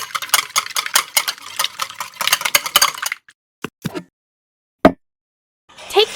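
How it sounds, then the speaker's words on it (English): Eggs are beaten with a small utensil in a tiny tray while making mini cheese balls. About three seconds of quick, rhythmic clicking and scraping are followed by a few isolated close clinks with silence between them. "Beating eggs."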